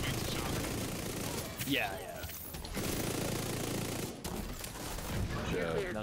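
Sustained automatic gunfire fills a firefight in The Division 2, a dense continuous rattle of shots with brief breaks, while a voice speaks briefly over it.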